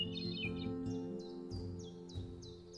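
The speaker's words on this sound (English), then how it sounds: "Catbirds mimic other birds and also have a call that sounds like a cat meowing" A gray catbird call in a winter survival video game: short chirping and mewing notes repeated over a steady, busy game backdrop of music and ambience.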